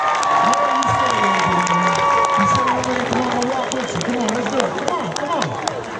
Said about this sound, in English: Angelina, give Angelina a round of applause.